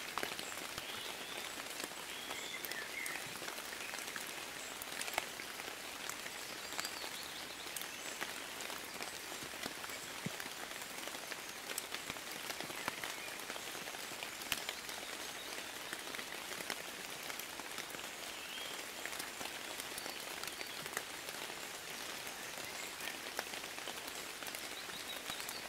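Rain falls steadily and evenly for the whole stretch, a soft continuous hiss of many fine drops pattering on surfaces at a gentle, constant level, with no voices.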